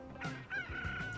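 Chickens cluck and a rooster crows at a farm in the video game Transport Fever 2, a few clear calls close up over a quiet background.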